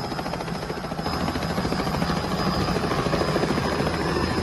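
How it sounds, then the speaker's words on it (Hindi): A helicopter carrying a bride from a village wedding, its rotor thumping in a steady rapid rhythm that grows slightly louder, with a constant whine above, heard alone. "इधर बागपत में एक दुल्हन की विदाई हेलीकॉप्टर से हुई।"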